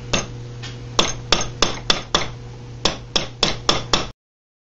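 A hammer tapping a first forged knife held in a vise, about a dozen sharp metallic strikes in uneven groups, close and clear over a faint steady hum.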